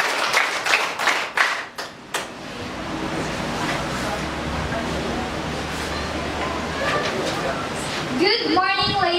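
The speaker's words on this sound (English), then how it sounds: "Let us give her a round of applause." An audience at a debate gives the arbiter a round of applause: a few sharp near claps open, then a dense sustained wash of clapping, with crowd murmur and a voice rising at the end.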